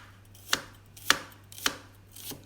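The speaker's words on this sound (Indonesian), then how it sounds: "Bawang putih bawang merahnya diiris" A knife slices garlic and shallots on a cutting board, giving four crisp, evenly spaced chops about half a second apart, close and clear over a faint steady hum.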